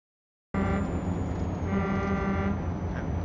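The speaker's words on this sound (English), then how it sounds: "We got air horns." In the truck driving game Euro Truck Simulator 2, a truck air horn blares loud and close in one sustained, deep, brassy blast that starts abruptly and holds to the end, with a brief dip partway through.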